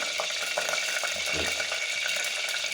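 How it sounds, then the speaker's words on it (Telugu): Whole spices such as cinnamon, cloves and cardamom crackle in hot oil, a steady sizzle dotted with small pops and a brief stirring scrape, no voices. "ఆయిల్ వేడెక్కాక ఇందులోకి చక్క లవంగము"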